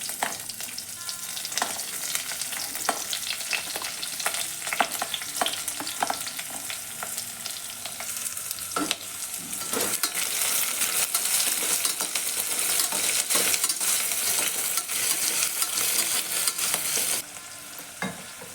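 Chopped onions frying in a pan with curry leaves and ginger-garlic paste, a loud continuous sizzle that swells midway, with frequent stirring clicks and scrapes of a spoon against the pan.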